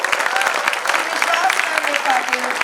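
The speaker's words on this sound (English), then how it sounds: "Can we have a round of applause, people?" An audience claps in a burst of applause at an event honouring officials, a dense, loud, steady patter of many hands close by that lasts a few seconds.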